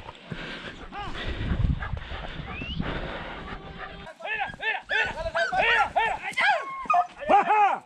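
Hunting dogs, beagles and greyhounds, barking and yipping during an outdoor rabbit hunt, with rapid, loud overlapping barks close by. Someone shouts and talks over the dogs early in the clip.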